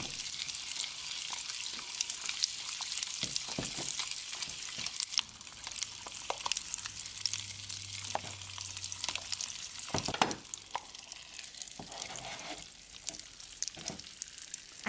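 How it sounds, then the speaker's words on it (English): Blue Fruit Punch Pop Rocks crackling on decorated sugar cookies, a steady fizzy sizzle of tiny dense pops with sharper crackles, close and moderately quiet, no talking. "Then add the blue Fruit Punch Pop Rocks."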